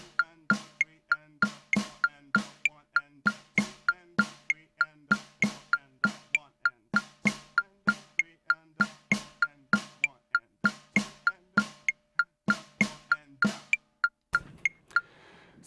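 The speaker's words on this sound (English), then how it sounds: "what you just heard was just a basic snare pattern" A basic snare pattern with hi-hat and a click track in a swing groove, sharp evenly spaced hits pulsing steadily at one level without dynamics, close and dry, with a brief clatter at the end.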